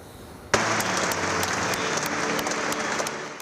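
Applause in a basilica in Padua at Alex Zanardi's funeral, a large crowd breaking into sudden sustained clapping that starts abruptly and fills the reverberant space steadily to the end.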